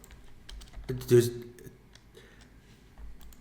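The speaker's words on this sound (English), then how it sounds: "press backspace on your keyboard" Computer keyboard keys are pressed in a few light, scattered clicks, close up and quiet, with a person talking briefly in the middle.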